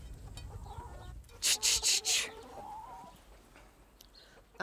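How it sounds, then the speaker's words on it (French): Hens in a coop on a New Zealand poultry farm give a quick burst of four loud squawking clucks, surrounded by quieter shuffling and faint background noise. "Très belle poule."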